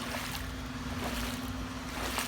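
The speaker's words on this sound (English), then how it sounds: "we open the tap here, water flows out for about 45 minutes" Irrigation water rushes steadily out of an open tap into a flood-irrigated Arizona yard, a constant broadband wash with a faint steady hum, no voices.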